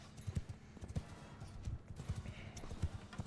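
Horses galloping in the game Bannerlord, a rapid, uneven clip-clop of hooves that repeats in short bursts at close range, with no voices.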